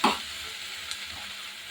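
Fried cauliflower manchurian is tossed in soy sauce in a hot pan, starting with a quick scraping stir, then a steady close sizzle.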